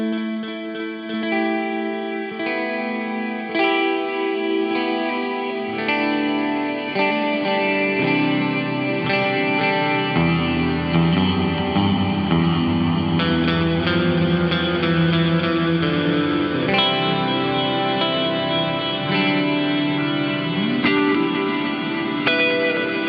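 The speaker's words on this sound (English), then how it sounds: "it turns into this kind of granular delay reverb kind of sounding thing" A Chase Bliss MOOD pedal produces a granular delay reverb: smeared, shimmering guitar tones build into a dense, echoing wash that shifts and swells continuously for over twenty seconds.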